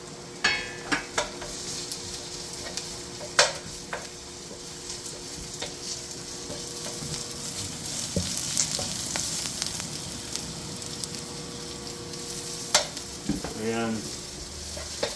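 Ginger sautés in a pan as crab with coconut milk and squash is cooked, crackling and sizzling steadily with intermittent stirring scrapes and clinks of a utensil against the pan, plus a brief rattle near the end.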